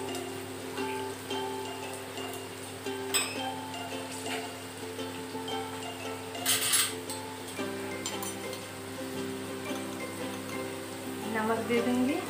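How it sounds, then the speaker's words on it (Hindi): Mushrooms and baby corn seasoned with salt and turmeric deep fry in hot oil, a steady soft sizzle with occasional clinks of a utensil against the pan. "और इसको नमक और हल्दी दे के डीप फ्राई कर लूँगी।"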